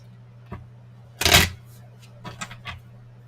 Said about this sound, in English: I have to shuffle till they tell me to stop.